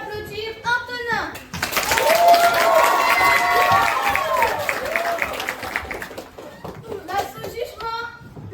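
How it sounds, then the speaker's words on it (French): Audience at a school talent show applauds and cheers loudly for about six seconds, with high young voices whooping over dense clapping, then fading as speech resumes. "Veuillez applaudir Antonin."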